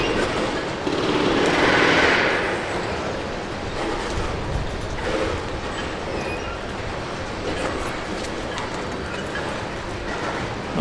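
A train rolls past a railfanning spot across the street from the transportation center in Altoona, Pennsylvania, a loud, steady rumble with rattling wheels and clatter sustained for about eleven seconds, strongest near the start.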